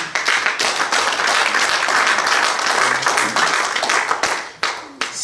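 Sustained applause and clapping from a church congregation during an evangelical service, a dense, steady wash of many hands filling the room, fading slightly near the end.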